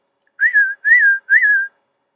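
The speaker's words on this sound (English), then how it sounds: "just give me a little whistle. Like this." A person whistles three short, clear notes in a row, each with a quick upward lilt, close and alone in an otherwise quiet room.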